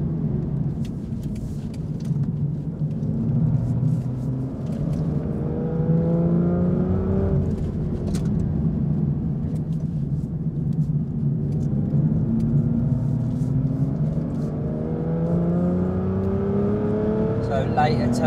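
Aston Martin V12 Vantage Zagato driving on a track, its engine rumbling and revving up and down through gear changes, with people talking over it inside the car.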